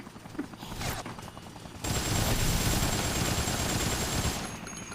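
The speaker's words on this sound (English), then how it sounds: "Just shooting the military in the helicopter?" Military helicopter in the Dead Rising video game, under a loud burst of rapid gunfire and mechanical roar that starts partway through and continues steadily, with a thin high whine above it.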